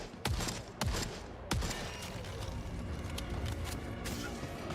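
Gunfire in The Forever Winter video game: three sharp, loud shots in quick succession, then a sustained rattle of distant firing and battle noise.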